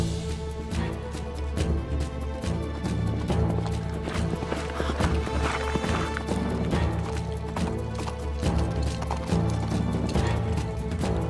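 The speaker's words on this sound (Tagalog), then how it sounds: "Inanda ako ng kabayo para sa'yo." Horse hooves clip-clop in a rapid, steady rhythm throughout, close and loud, mixed with dense movie soundtrack noise and a faint neigh, with no clear speech.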